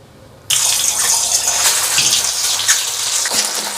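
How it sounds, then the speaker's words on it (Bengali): Eggs for a Bengali dahi egg curry drop into hot white oil in a kadai. After half a second of quiet, a loud hissing sizzle bursts in and carries on steadily. "এবার ডিমগুলোকে হালকা করে ভেজে নেব।"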